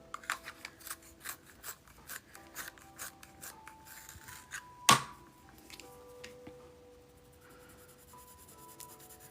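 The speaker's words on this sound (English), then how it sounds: "Sharpener, there you are." Pencil sharpener shaving a Prismacolor colored pencil, with quiet repeated grinding strokes in a steady rhythm, one sharp click midway, then softer scraping, heard up close and faint, with no talking.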